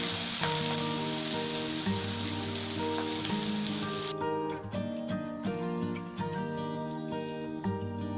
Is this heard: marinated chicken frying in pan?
yes